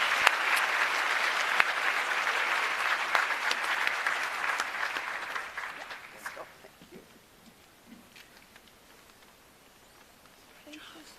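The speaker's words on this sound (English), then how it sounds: "I want us to give them a round of applause" Audience applause at the Science Forum South Africa 2023 in a large hall, a dense steady clapping for about six seconds that then thins out and fades to scattered claps and quiet room tone.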